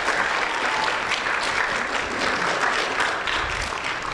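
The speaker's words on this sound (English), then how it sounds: "Give her a round of applause." A Sunday church service crowd applauds a contestant in a mock game show segment, with loud, dense, sustained clapping from many people that holds steady throughout.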